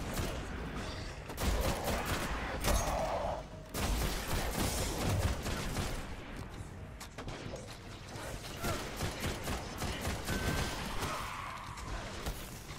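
Sci-fi weapon fire in the shooter Destiny during a fight with a captain enemy, with repeated shots and bursts mixed with mechanical clatter and game effects for most of the stretch, loud and close.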